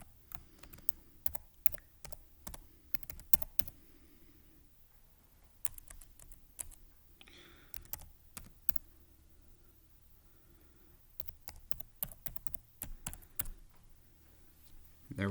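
Computer keyboard keys tapped in several quick bursts of close, crisp clicks while a password is entered, with short pauses between the flurries and no talking.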